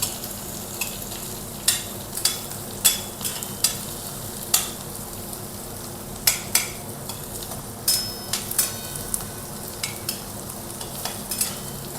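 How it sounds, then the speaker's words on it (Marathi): Finely chopped onion sautéed until golden for vermicelli upma: a steady sizzle in the pan under frequent crisp clicks and scrapes of a stirring spoon, close and fairly even throughout. "कांदा आपल्याला हलकासा सोनेरी रंग येईपर्यंत परतून घ्यायचा आहे।"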